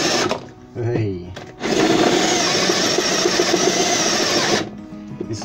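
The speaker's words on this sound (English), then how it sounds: "This is where you need a really good, powerful drill." Powerful power drill boring a hole during a converted ambulance renovation, a loud steady whine running for several seconds after brief start-up bursts, with a voice speaking early on.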